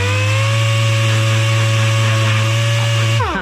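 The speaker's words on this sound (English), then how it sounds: "I just use an 80 grit on a DA" A dual-action sander with 80-grit paper grinds on metal bodywork, a loud steady motor whine with buzzing harmonics that runs evenly before spinning down at the end.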